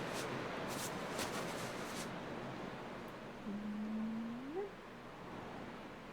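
A pet cat named Ormy lets out one drawn-out, rising meow partway through, fairly faint against a steady background hiss.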